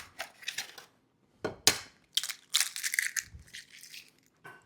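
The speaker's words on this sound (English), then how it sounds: "Crush it in the shell so it breaks open for me better." An egg is crushed in its shell by hand in a home kitchen, producing a series of sharp crackling crunches in irregular bursts with short silent gaps, close and clear, with no voices.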